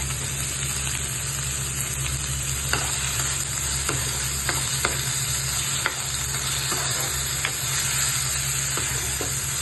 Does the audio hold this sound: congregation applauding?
no